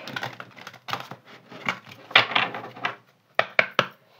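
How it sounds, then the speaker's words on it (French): Large oracle cards being shuffled by hand: irregular bursts of papery slapping and riffling, fairly close, with brief pauses and a few sharper snaps near the end, and no talking. "Elles sont tellement grandes, ces cartes, j'ai du mal"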